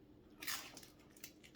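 A single close, crisp crunch comes from biting into the edge of reheated pizza crust, followed by a few softer chewing crackles, quiet overall with no speech.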